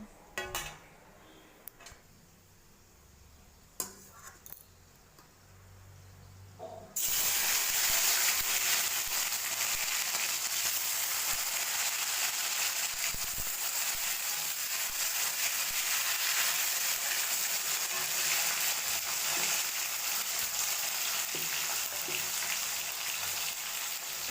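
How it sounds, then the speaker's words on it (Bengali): Spices with ginger fry in a pan, starting after a few quiet clinks and taps, then a sudden loud, steady sizzle that holds constant to the end. "তার মশলাটা একটু ভালো করে ভাজবে বন্ধুরা"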